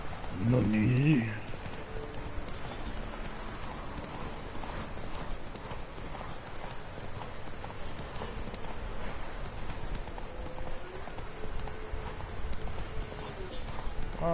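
Horse hooves gallop in Witcher 3, a steady rapid clip-clop that runs throughout, with a rhythmic chiming sound near the start and someone talking over it.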